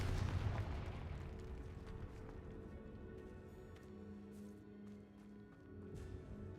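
A Confringo blasting spell goes off in the Hogwarts Legacy video game, a deep rumbling blast that fades into a long low roar and lingers quietly with no voices over it.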